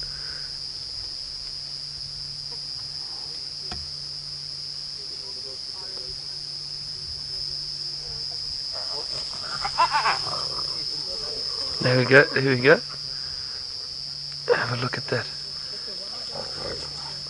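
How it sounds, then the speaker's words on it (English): A hyena growls in several low, rough bursts close by during an evening safari drive in the wild, with a steady insect hum throughout and someone talking quietly over it. "Oh, and hear those growls by that hyena."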